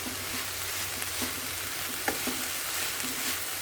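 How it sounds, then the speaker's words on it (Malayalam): Banana flower stir-fry with crushed coconut mix stirred in a hot pan, giving a soft, steady sizzle with scattered light scraping ticks from the spoon, close and fairly quiet, no voices. "നാളികേരം ചതച്ച മിക്സ് ചേർത്ത് നന്നായി ഇളക്കി വേവിക്കും"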